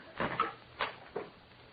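A door in a radio drama swings open after being unlocked with a key, heard as a few soft, close creaks and knocks spread over under two seconds with no talk.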